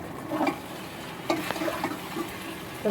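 Boiled pilau rice is stirred through a tomato-sauced mixture in a pan, with soft scraping and a few quiet sloshing stirs over a faint sizzle.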